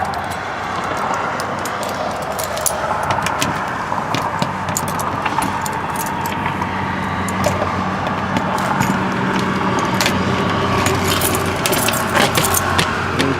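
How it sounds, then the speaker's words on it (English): Keys jangle and clink steadily for several seconds as a set is pulled out at a used B-1200 camper, close and busy, over a constant road-like rumble with no talk. "let me get my keys out here"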